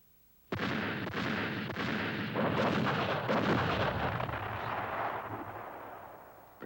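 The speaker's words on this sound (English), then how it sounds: "The communist artillery dramatically reveals its presence, pounding the unsuspecting French on the valley floor below." Viet Minh artillery bombardment of French positions at Dien Bien Phu: a sudden massive roar of guns breaks out and holds as a dense, rumbling barrage with layered blasts, loud and sustained before slowly easing off.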